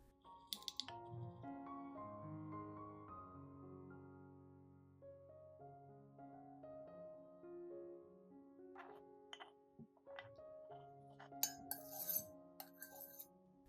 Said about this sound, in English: put all the chopped garlic into a clean glass cup.